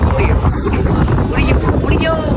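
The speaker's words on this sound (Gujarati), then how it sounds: "એટલો પવન છે ગાઈસ" Strong wind buffets the microphone in a steady roar at Chotila, Gujarat, during Holi, with a voice talking over the gusts throughout.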